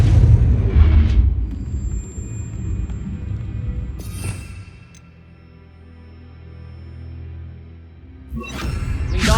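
Spell effects cast in Hogwarts Legacy: heavy booming blasts with whooshing bursts open the sequence, a quieter low rumble follows, then another sharp loud burst closes it, with no talking.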